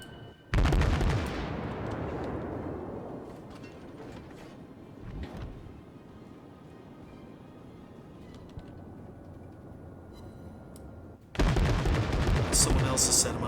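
Warship guns in World of Warships fire high-explosive shells: a loud close broadside boom with a long rumbling decay, a smaller shot midway, then another heavy salvo near the end.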